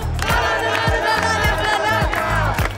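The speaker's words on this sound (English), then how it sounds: "We make chants. We're the loudest ones there." Rugby league fans in a stadium chant and shout together in a loud, rhythmic crowd roar with regular beats.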